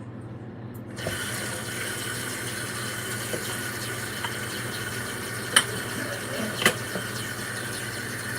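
Water runs steadily from a tap into a container while coffee is being made, a continuous close rushing flow that starts after a second of quiet, with a couple of sharp clinks partway through.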